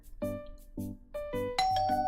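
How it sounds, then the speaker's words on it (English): A doorbell chimes in the Love Curse video game, a quick run of bright bell tones ringing one after another over about two seconds, clear and close with no voices. "It doesn't take long before the doorbell rings."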